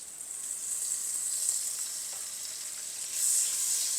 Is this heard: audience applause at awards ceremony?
no